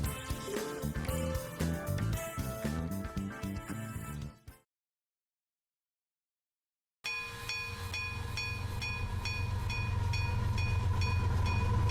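A train in the game 9:22 rumbles past with a steady clattering roar and bright tonal whines, broken by a few seconds of silence before the heavy rolling noise resumes.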